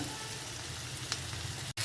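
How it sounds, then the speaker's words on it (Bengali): Chunks of potato, eggplant and taro fry in oil tempered with cumin and dried chili, giving a steady, close sizzling hiss that breaks off briefly near the end. "এইখানে দেখো সবজি ভেজে নিচ্ছি"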